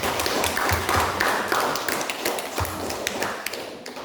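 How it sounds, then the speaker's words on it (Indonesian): Audience applause for two presenters at an Indonesian school research exam on banana-peel-flour biscuits, a dense steady patter of many hands clapping in a hall for about four seconds, with no talk over it. "terima kasih untuk Ira dan Rick, kita berikan aplaus untuk mereka"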